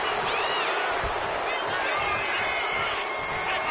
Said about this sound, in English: And now Tony is playing to the crowd.